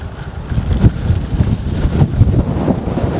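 Strong gusty wind buffets the microphone of a cyclist riding into a headwind, a loud low rumbling roar that surges and eases in irregular gusts, with no voices.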